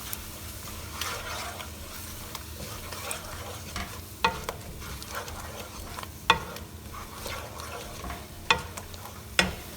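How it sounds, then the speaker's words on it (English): Ground spices cooking in a pan for Malvani shrimp curry give a steady low sizzle, broken by several sharp scraping clicks from stirring against the pan, close by and moderately quiet. "I'm going to add now my spices. This is the ground spices, all of that. And then let this cook really well."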